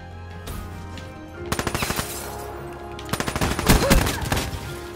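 Shotgun fire in Call of Duty Black Ops 3 multiplayer, a loud cluster of sharp, rapid bangs in two bursts with echoing tails and clattering impacts between them.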